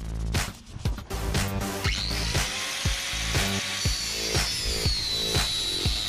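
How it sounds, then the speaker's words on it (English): An electric hacksaw cuts through hardened 30-year-old bolts on a Lexus rear suspension arm, sawing close and loud in a rapid, regular reciprocating rhythm with a rising metallic whine and no speech. "out comes the electric hacksaw, and these bolts are hardened and they're 30 years old"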